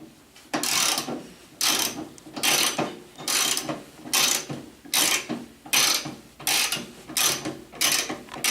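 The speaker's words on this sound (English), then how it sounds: "Need the ratchet on this one." A ratchet tightens go-kart wheel hardware in about ten rhythmic bursts of sharp clicking, each stroke followed by a short pause, loud and close, with no talking.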